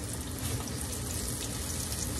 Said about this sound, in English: this is the chicken tenders frying